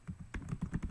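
Quick, soft keystrokes on a computer keyboard, several taps in an irregular rhythm, close and quiet.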